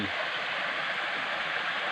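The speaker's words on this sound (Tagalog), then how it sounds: "Narito tayo guys ngayon sa sapa ng Barangay Ilayang Ilog A." A creek in Barangay Ilayang Ilog A, Lopez, Quezon, flows with a steady, broadband rushing and gurgling of water, close and continuous with no break.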